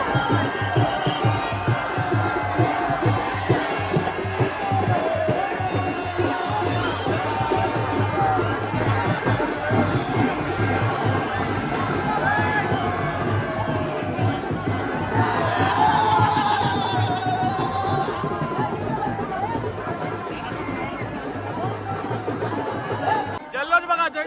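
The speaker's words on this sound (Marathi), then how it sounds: "जल्लोष बघा जय खंडोबाल्यांचा जल्लोष" A dense crowd cheers and shouts continuously at the Rayba Devi temple fair during a procession of ceremonial poles, loud and close, with voices and chatter throughout.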